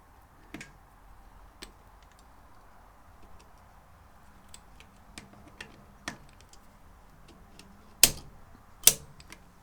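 Ratcheting clicks from a torque wrench tightening the rear brake pad pin on a Suzuki GSF 650 ABS Bandit, scattered light ticks building to two sharp, louder clicks near the end as the setting is reached, close by.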